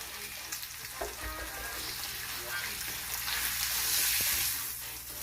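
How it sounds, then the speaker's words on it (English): Meat held on a hot grill sears with a loud, continuous hiss and crackle, close up, with faint handling sounds and no voices. "I'm probably going to sear this a little bit, or this a little bit, by just holding it on the grill."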